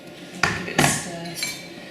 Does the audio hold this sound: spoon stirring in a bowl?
yes